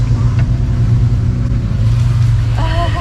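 Toyota and Jeep off-road vehicles passing at an off-road park: a loud, steady low engine rumble with a throaty drone, and a brief higher mechanical whine near the end.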